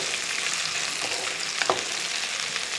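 Onions, garlic and green chillies frying in a pan for dal curry, a steady close hiss of frying with a couple of brief stirring scrapes, no voices.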